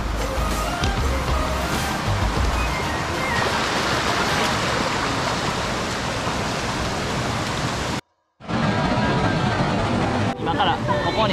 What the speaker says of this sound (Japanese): これが滝か。